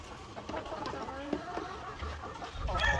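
Egg-laying hens in a farm coop cluck in short, soft, scattered bursts at a quiet level, mixed with faint background farm noise.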